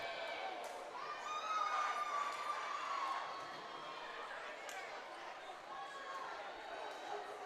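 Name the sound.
applause from bench and fans at volleyball game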